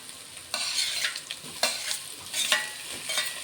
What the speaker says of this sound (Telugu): ఇప్పుడు ఇందులో అయితే కట్ చేసుకున్న టమాటాలు వేసుకుంటున్నా